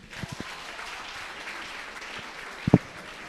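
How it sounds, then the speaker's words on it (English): Applause after a secondary school debate speech, a soft spread of clapping across the room with a few louder close thumps near the end. "please give this round another bigger round of applause"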